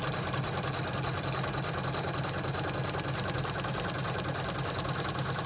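An embroidery sewing machine stitches vinyl on an in-the-hoop bag with a steady, rapid, loud mechanical whirring and needle chatter, running continuously and close up with no talk.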